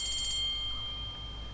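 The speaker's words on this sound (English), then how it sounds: "And that is the bell." A school bell rings briefly with a bright metallic trill that fades quickly into quiet room tone.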